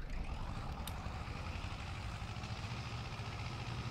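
A tractor engine idles steadily at a field where straw is being baled, a low, even, continuous rumble held at moderate distance with no speech.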